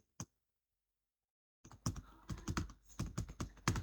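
Rapid keystrokes on a computer keyboard while entering text into an Excel spreadsheet: a single tap, a pause of near silence, then a quick close burst of clicking typing.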